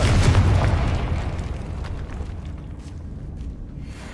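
A Confringo spell explosion in Hogwarts Legacy lands as a single loud, deep blast at the start. A long crackling rumble follows and slowly fades, with a few small pops near the end.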